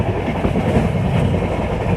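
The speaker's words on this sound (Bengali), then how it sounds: "ফাঁকা মাঠের মধ্য দিয়ে ট্রেন দুম দুম শব্দে এগিয়ে চলেছে" A moving train, an express running from Howrah to Bangalore, gives a close, steady, loud rumble with a continuous rolling roar and no pauses.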